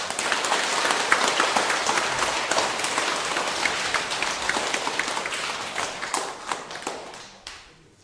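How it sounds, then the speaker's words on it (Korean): Audience applause at a Korean Buddhist dharma talk on the Heart Sutra: many hands clapping in a dense, steady crackle for several seconds, thinning and fading out toward the end, with no talking over it. "이럴 때는 박수 치는 거야"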